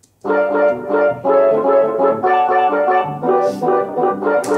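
Soft, warm synth keys play a series of sustained chords, mellow and rounded, with gentle swells between them and no voices.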